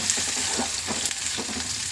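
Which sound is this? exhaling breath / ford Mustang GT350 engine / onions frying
onions frying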